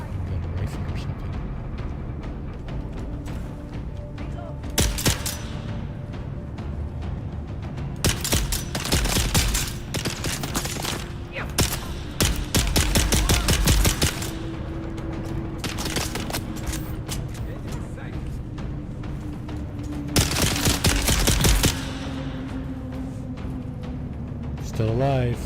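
Bursts of rifle fire in the video game Dune: Awakening, several rapid volleys spread across the scene over a steady droning background, with a voice speaking at times.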